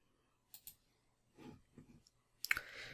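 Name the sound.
computer mouse click on WordPress login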